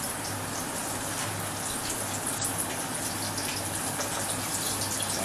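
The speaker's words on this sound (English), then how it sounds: "You'll hear them bubbling and brewing and all that happy stuff." Shrimp for a New York Central dining-car brochette frying in hot oil, a steady dense bubbling and sizzling hiss that holds evenly throughout without a break, close and fairly loud, with no talking.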